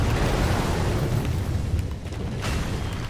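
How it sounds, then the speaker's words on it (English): A fire attack explosion in the Dark Souls 3 video game, heard as a dense, loud rumbling boom that fills the clip, with a sharper burst flaring near the end. "Somebody threw fire at me."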